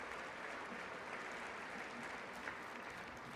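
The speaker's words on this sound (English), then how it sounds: "I wasn't sure if anybody, even on this side, was going to applaud for that." Audience applause during a State of the Union address, a dense, continuous wash of clapping heard from a distance and holding steady throughout without a break.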